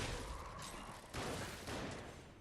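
Enemy gunfire in the video game Lies of P rattles as a dense, continuous burst of shots, loud and noisy throughout with no clear breaks and no voices.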